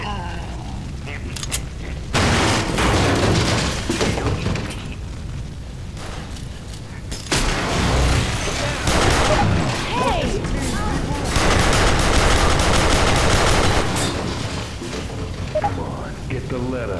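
Gunfire in the video game Dead Center, aimed at a charger, comes as dense, loud, continuous shooting and booming across the whole stretch, with players' voices talking over it.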